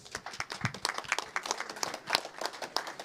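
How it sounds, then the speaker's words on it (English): Scattered applause from a small group at a telethon, irregular claps that carry on steadily for a few seconds with no talking. "A round of applause for you guys."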